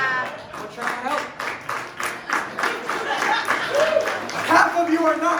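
Audience clapping at a comedy club, a steady patter of hands for several seconds, with some chuckles and a voice speaking over the end.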